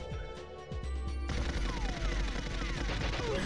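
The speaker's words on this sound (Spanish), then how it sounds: "Escucho los disparos." Rapid automatic gunfire from the N64 shooter GoldenEye 007, a loud continuous burst after a few separate shots, dense and sustained to the end.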